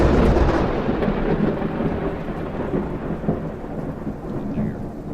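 Loud, continuous rumbling thunder from a storm outside rolls on under steady rain, with no voices, slowly easing in intensity.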